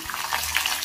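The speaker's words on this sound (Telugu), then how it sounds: "2 రెమ్మలు కరివేపాకు తీసుకొని ఇలా ఫ్రై చేసుకోవాలి." Curry leaves and chillies for lemon rice fry in hot oil with a dense, loud, continuous sizzle lasting under a second.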